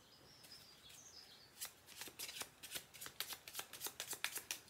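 Small angel key oracle cards shuffled by hand, a rapid run of crisp papery riffles building in pace and loudness, close and alone with no talk; faint bird chirps sit in the background early on.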